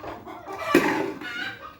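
Domestic chickens squawk and cluck in a short burst, with one loud, sharp cry standing out near the middle against a busy household background.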